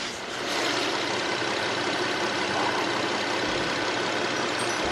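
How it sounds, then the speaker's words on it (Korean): An Infiniti M37 V6 engine idles smoothly and steadily close by with the hood open, a quiet, even hum with no revving. "엔피니티 M37 차량 엔진 소리 들어보기 위해서 본넷까지 시원하게 개방까지 해봤습니다"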